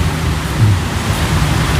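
Rain falls in a steady, close, broadband hiss with a low rumbling undertone and no voices.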